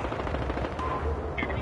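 Gunfire in the Battlefield Hardline video game, a quick rattle of shots within dense game noise and voices, brief and fairly loud.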